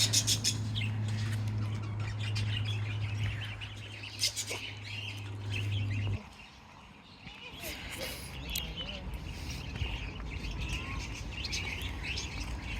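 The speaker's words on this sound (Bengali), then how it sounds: "অসুস্থ মনে হচ্ছে পাখিটাকে দেখে। ওই ইয়েলো রঙের পাখি।" A small yellow bird, apparently unwell, chirps with brief tweets outdoors on a hot sunny day, faint and intermittent beneath a person talking and a steady low hum that cuts out midway.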